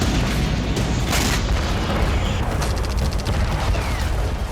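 Explosions rock the ground in a war zone, a dense, continuous barrage of deep booming rumbles and crackling blasts, loud and close, with no voices.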